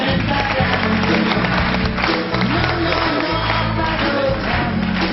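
Studio audience applause on a French television programme, loud and continuous, a dense crowd noise with low rumbling tones beneath it throughout.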